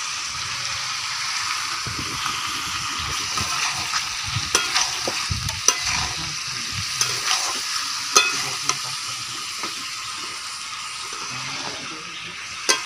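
Potatoes already fried with salt and turmeric are stir-fried into a chicken curry cooked with goat fat, giving a continuous close sizzle with frequent scraping and stirring strokes against the pot and a few sharp clinks.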